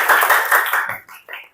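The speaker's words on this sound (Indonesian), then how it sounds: "Tepuk tangan dulu untuk Elvira." A classroom audience gives a short burst of clapping, a dense patter of hands that thins out into a few scattered final claps.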